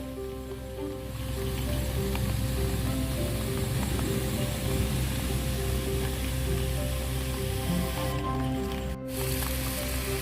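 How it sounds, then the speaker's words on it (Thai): A sprayer mists a leaf-sticker insect repellent mixture over plants in the rainy season, a steady broad hiss running almost continuously with a brief break near the end, close and fairly loud. "ฉีดพ่นไปแบบนี้เลยครับ"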